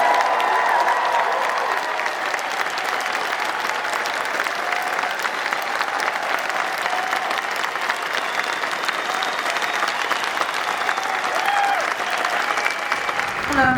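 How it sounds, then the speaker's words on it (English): A huge outdoor vigil crowd in Nottingham roars and applauds, a continuous wash of thousands of clapping hands and cheering voices, loud and unbroken before cutting off at the end. "to show us an enormous roar and round of applause for everyone affected by this tragedy."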